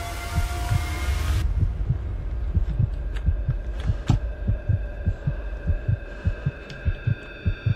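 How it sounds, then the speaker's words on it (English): Heartbeat effect from the horror video game Lex Mortis: a steady series of deep thumping beats over a low droning hum, continuing throughout with no voices. "Why is my heart beating?"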